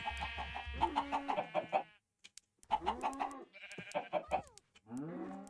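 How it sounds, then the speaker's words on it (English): Minecraft chickens cluck as they scatter, mixed with drawn-out bleating-like calls, all in separate bursts with brief silences between them and no speech. "Oh, now the chickens are scattering again."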